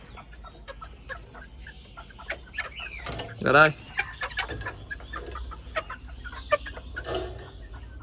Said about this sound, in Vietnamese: Còn đây chính là những con gà tre lai